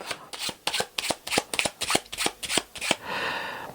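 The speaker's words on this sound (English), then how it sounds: "I'm going to shuffle the cards as well" Rapid riffle shuffling of a deck of cards, a quick series of crisp fluttering bursts, each followed by a short cascading bridge sound at the end, close and clear.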